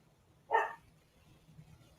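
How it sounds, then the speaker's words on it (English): Dogs give a single short bark at middle distance, one brief burst in an otherwise quiet room with a low steady hum underneath. "Now they want to bark."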